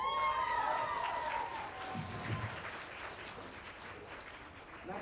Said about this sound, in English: applause to Olivia Moon.